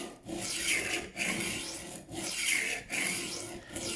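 Steel knife blade drawn repeatedly across a Work Sharp rolling knife sharpener, a steady rasping scrape in four or five strokes with brief pauses between, close and fairly quiet.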